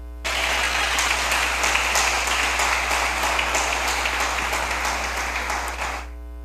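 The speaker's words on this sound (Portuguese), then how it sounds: "Dê um forte aplauso a Jesus." A revival conference congregation breaks into loud, sustained applause, a thick wash of clapping that starts abruptly, holds steady for about six seconds, then cuts off cleanly.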